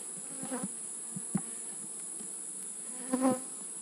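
Honeybees at the Camden hive during an open inspection hum steadily in the background, with a few brief louder swells as individual bees pass close by.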